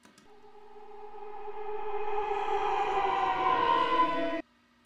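Reversed sample chops treated with tremolo and tap delay, a tonal swell that rises gradually from quiet to a steady wavering drone over four seconds, then stops abruptly, heard alone.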